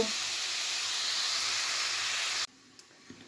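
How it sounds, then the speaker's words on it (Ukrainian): Onions stewing in a pan give a steady, close hiss of steam and light sizzle that cuts off abruptly, leaving near silence with a faint clink. "Так що зараз цибулька в мене трішки протушкується."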